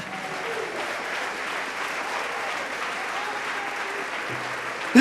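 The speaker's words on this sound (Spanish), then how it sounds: "Denle ese aplauso al Señor." A church congregation applauds in praise during a pastor's sermon, a steady, even wash of clapping at moderate distance, holding constant across the whole stretch with a brief bump at the very end.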